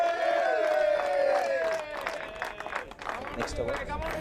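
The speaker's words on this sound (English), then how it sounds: "Please give me a round of applause, guys." An outdoor crowd at a cricket league final award presentation claps and cheers, with a patter of hands and scattered shouts while a voice speaks over it, the clapping thinning after a couple of seconds.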